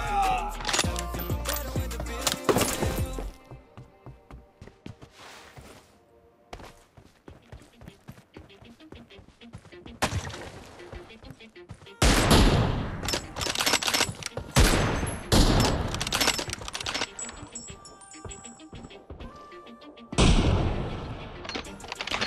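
Rapid bursts of gunfire from an M24 sniper rifle in the video game PUBG, with loud clustered shots early, scattered sharper reports, then further heavy volleys near the end.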